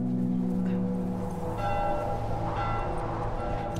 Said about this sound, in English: The town's alarm bell marks your path after Ellie's escape.